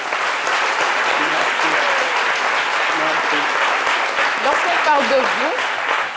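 An audience applauds warmly at a midday tribute event, a dense, continuous wash of clapping with scattered voices and cheers rising through it.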